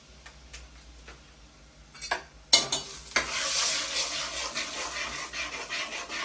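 Cumin seeds hit hot oil in a pan and burst into a sharp, crackling sizzle that holds steady, preceded by a few faint ticks and clinks of a utensil.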